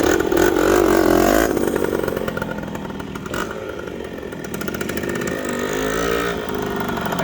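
A 1972 Yamaha LT3 100 two-stroke motorcycle runs close by, its engine revving loudly at first, then settling into a buzzing, wavering drone with rising and falling throttle.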